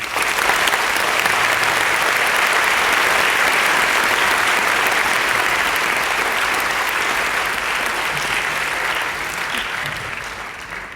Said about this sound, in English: Let us show our appreciation to our lecturers, parents, and friends with a big round of applause.